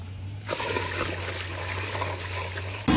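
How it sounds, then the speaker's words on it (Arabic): Hot water is poured onto butter melting in a pan to render clarified fat, making a steady, close splashing stream that runs for a few seconds and then stops. "وهسه نضيف عليها مي حار."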